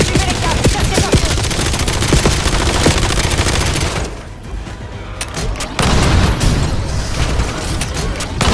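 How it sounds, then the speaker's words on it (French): Call of Duty Black Ops 7 combat with gunfire and a frag grenade: dense, loud bursts of shooting and blasts fill the scene, briefly thinning near the middle before the heavy firing surges back. "Grenade frag!"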